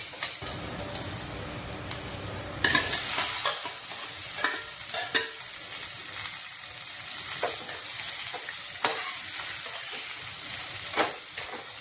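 Green chillies stir-fried in a pan, a steady close sizzle with repeated scraping stir strokes running throughout, louder after the first few seconds as the chillies go in.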